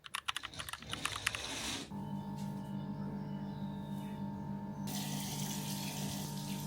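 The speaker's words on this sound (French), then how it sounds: "Je prends ma douche." A shower in a bathroom in Bali. First comes a few seconds of clattering taps and knocks, then steady running water with a low pump-like hum, and a brighter hiss of spray near the end.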